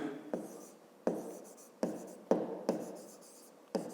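Pen or marker writing on a surface during a grade 5 math lesson on remainders, with repeated scratchy strokes separated by sharp taps at the start of each word or line, close and clear with no talk.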